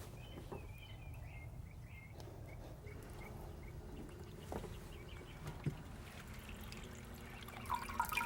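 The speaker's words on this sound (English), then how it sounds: "And we'll go ahead and turn our water on." Water from a small pump trickling and splashing steadily into a patio water garden set with rocks, a quiet continuous flow with faint bird chirps in the background.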